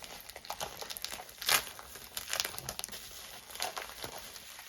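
Plastic bag padding crinkles and rustles as it is unwrapped from a packaged knife, a close, busy run of crackling bursts with one louder tearing crunch.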